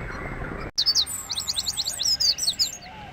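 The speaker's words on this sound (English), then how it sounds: "Birdies!" Cartoon-style birds chirping in the Hugo PlayStation 1 video game, a quick run of bright repeated tweets that starts after a brief silence and carries on over low background game ambience.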